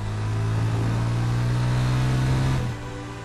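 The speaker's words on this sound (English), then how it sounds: "There was one final touch to make, an appealing exhaust note. It had to sound powerful, but also pleasing to the ear" A Yamaha FZ25 motorcycle's exhaust note drones loud and close with a deep, steady engine hum that swells slightly while revving, then drops to a lower idle near the end. No voices.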